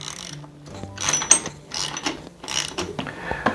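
Axle nuts on an S.E. Bikes Blocks Flyer wheel are tightened, giving close ratcheting clicks and metallic mechanical rattles in uneven bursts with brief pauses, no talking.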